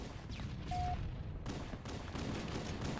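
Gunfire and explosions in the Halo video game, Master Chief Collection multiplayer: a dense, continuous fusillade of shots and booms from a busy battle, steady and loud throughout with no voices.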